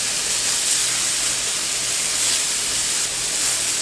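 Onions sizzle in a hot pan on the stove, a steady, loud, dense hiss that carries on evenly throughout with no voices.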